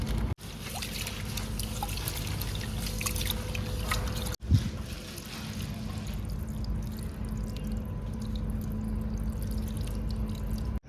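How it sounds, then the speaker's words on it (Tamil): Half a kilo of rice for biryani being rinsed in water in a cooker outdoors on a bridge, a continuous close trickling and sloshing that breaks off briefly and then resumes. "இப்போ அரிசி வந்து ஒரு தண்ணியில் தான் போட்டு களைஞ்சி எடுத்தோம்."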